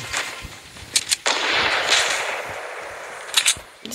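Sniper gunfire in the Fortnite video game, with several sharp cracks near the start and a close pair toward the end, separated by a sustained noisy rush in between.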